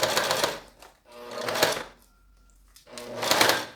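Domestic sewing machine stitching plastic vinyl in three short bursts of rapid mechanical clatter, close and fairly loud, separated by brief pauses.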